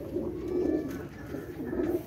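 Pigeons coo in low, throaty, rolling phrases, close and continuous, with no speech.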